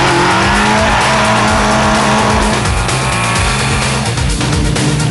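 A car driven hard by the Stig roars loudly throughout, its tires squealing in long skids over a constant engine and road noise.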